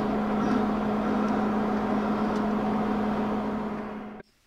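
A MIG welder's wire feed motor whirs steadily while retracting the welding wire, a continuous close mechanical hum that runs unbroken for several seconds and then cuts off abruptly.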